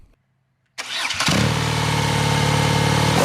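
A BMW R NineT's air- and oil-cooled boxer twin on standard exhausts fires up loudly after a brief silence, catching with a quick burst and settling into a steady, throbbing idle close by.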